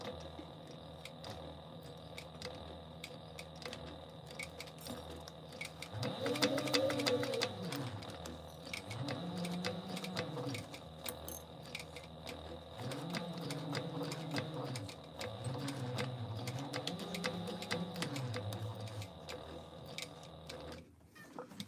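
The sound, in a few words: sewing machine winding a bobbin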